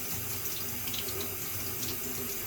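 Tap water runs steadily into a sink as an avocado plant's roots are rinsed clean of perlite while moving from soil to semi-hydro, a close, continuous splashing flow with no talk.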